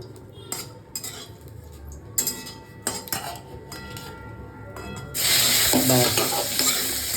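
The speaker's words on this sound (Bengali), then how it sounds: "গোটা জিরাটা একটু হালকা ভাজা হয়ে যাক" Whole cumin seeds fry in a pan as vegetables and dal are cooked, with metal utensil clinks and stirring scrapes at close range before the sizzle rises to a loud, steady hiss.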